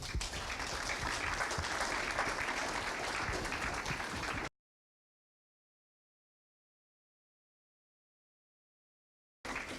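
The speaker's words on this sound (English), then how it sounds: "can we give our panelists a round of applause?" An audience at an evening panel discussion applauds the panelists with dense, steady clapping for about four seconds, then it cuts to silence before the sound briefly returns at the end.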